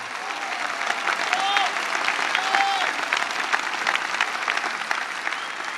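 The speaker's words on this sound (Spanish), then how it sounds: "un aplauso a la Virgen de Luján. Más fuerte, no sento, más fuerte." A large crowd claps loudly and steadily in honor of the Virgin of Luján, a sustained roar of many hands with scattered whistles and voices rising over it.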